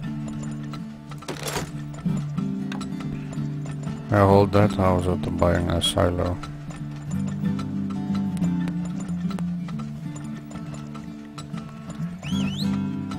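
Horses from the video game Turmoil give a brief whinny and soft clip-clop game effects beneath steady background music, with someone talking over part of it.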